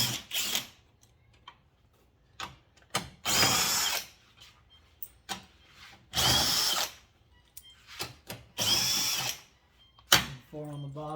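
Power drill or impact driver removing the grille bolts on a 2014 Chevrolet Silverado: several loud, close bursts of whirring separated by ratcheting clicks and handling noise. Talk is heard between the bursts.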